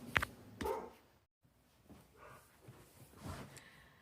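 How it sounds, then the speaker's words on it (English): An indoor dog gives a couple of sharp, fairly close barks followed by quieter whimpering and yips that trail off over several seconds. "Dog's having a bit of a moment."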